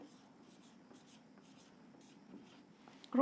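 Pen or marker strokes scratching out numbers on a board during a Hindi-language maths lesson on place value, a steady run of faint, short writing scrapes with a brief louder knock at the very end.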